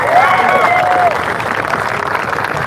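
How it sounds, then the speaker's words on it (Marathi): Audience applause at a public gathering fills the whole clip as steady, dense clapping from a crowd, loud and continuous, with a brief tonal sound over the start. "शेवटची टाळी गुरुजन चॅनलसाठी"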